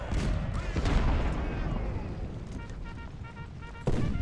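Cannon fire from 20-pounder artillery batteries in the Ultimate General: Civil War game at Gettysburg, a dense rumble of booms and explosions running throughout, with a sharp fresh blast near the end.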